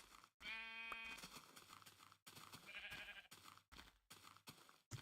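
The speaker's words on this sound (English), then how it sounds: "But first I'm gonna catch these sheep." Sheep in the Minecraft Indev game bleat several times in short, wavering calls, fairly close, over a busy background of game noise with no talking.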